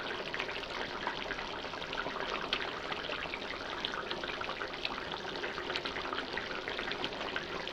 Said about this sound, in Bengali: আমার ঝোল উতলায় গেছে। এখন মাছগুলো এক এক করে ছেড়ে দিব।